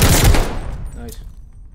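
Gunfire in Call of Duty Vanguard during a bomb-mode match, a loud close burst of shots at the start that quickly fades into echoing tail and quieter game noise.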